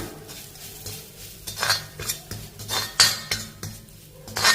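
Garlic sautéing with pink salt in a pan, dominated by a spoon clinking and scraping against the metal pan in irregular strokes, with only a faint sizzle underneath.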